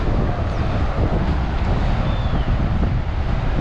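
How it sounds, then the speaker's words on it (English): Strong wind buffets the microphone on a bridge in a Himalayan forest on the trek between Namche Bazaar and Dingboche, a loud, continuous rumbling roar with no break. "It's very windy."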